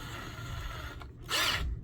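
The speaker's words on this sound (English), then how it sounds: "we've got basically a drill bit that's going to chew through that styrofoam really well. I'm going to chuck that up in my drill." A power drill fitted with a large bit bores through styrofoam bulkheads in a 1:72 German Type 212 submarine model. It whirs steadily up close, then gives a brief sharper, louder burst near the end.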